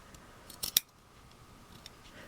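Scissors trim excess fabric from a cloth doll's fingers, giving a couple of quick, sharp snips close to the microphone in an otherwise quiet room.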